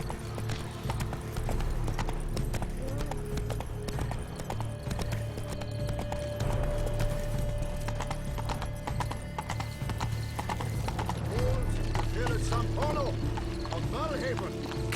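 A horse in The Witcher 3 video game gallops with steady, rhythmic hoof clip-clops and an occasional whinny, under a continuous background hum and game sounds.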